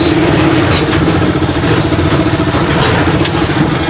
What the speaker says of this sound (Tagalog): Okay pa naman yung makina, Marakas malakas.